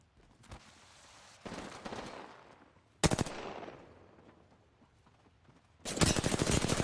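Automatic gunfire in the video game Apex Legends, several loud rapid bursts, with the sharpest starting around three seconds and a sustained volley at the end, separated by quieter stretches of fading rumble.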